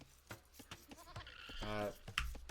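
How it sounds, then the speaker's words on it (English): A sheep in the video game Age of Empires II gives a short bleat, faint and brief, mixed in among game sounds and a commentator's talk. "Llama found the sheep."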